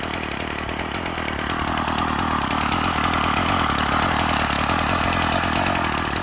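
A Ryobi 740r small two-stroke engine idles steadily and loudly after its first start following winter storage, a close, buzzy, rapid putter that holds an even rhythm throughout without any speech.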